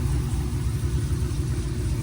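A new LS3 long-block V8 with headers and full exhaust rumbles at a steady idle in a 2003 Chevrolet Silverado, a deep, even, continuous burble heard close up with no one speaking.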